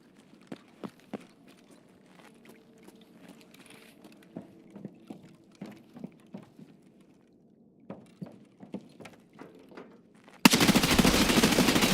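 Gunfire in the Escape from Tarkov video game, a run of sharp separate shots with irregular gaps over about ten seconds, then a sudden loud continuous burst of noise at the end.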